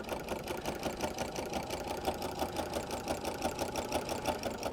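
A sewing machine runs steadily, stitching across a layered quilt with a fast, even needle rhythm, close but moderately quiet and continuous, with no voices.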